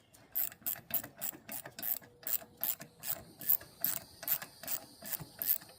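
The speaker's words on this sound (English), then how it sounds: "A ye old sound of the ratchet retracting." A hand ratchet wrench clicks in quick bursts, about a dozen rhythmic ratcheting strokes close up and moderately loud, used on a 1995 Chevrolet Caprice Classic, with no talk.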